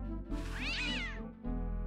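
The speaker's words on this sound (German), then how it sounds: "Was für eine niedliche Miezekatze." One long, wavering meow from a cat in the video game Day of the Tentacle sounds over a constant musical backdrop, close and distinct.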